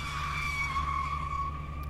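A car's tyres skid through a corner while drifting, producing one continuous loud screech over a steady low engine drone, with no talk.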